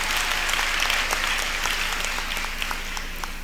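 A convocation audience of students and guests applauds steadily, dense clapping filling the hall at an even level throughout with no talk over it.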